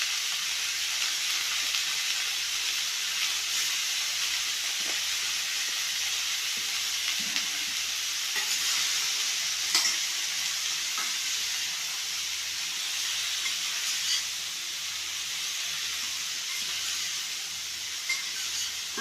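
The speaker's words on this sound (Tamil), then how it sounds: "நல்லா வதங்கட்டும்" Bitter gourd curry ingredients with turmeric sauté in a pan, giving a steady soft hiss and sizzle that runs throughout, with a few faint stirring taps and no speech.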